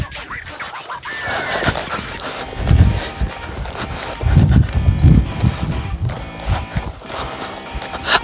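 A barrel horse's hooves clop steadily as it moves around trees in a field on slick ground after the first snowfall, with close, uneven footfalls and some scuffing.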